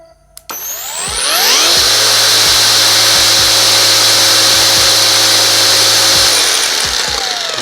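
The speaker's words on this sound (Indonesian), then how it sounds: "Gua akan coba perlihatkan kepada kalian seberapa kencang RPM yang dihasilkan oleh gerinda ini." A J.LD 48V cordless angle grinder starts with a click, then winds up to a loud, steady high whine at full speed and holds it close by for several seconds.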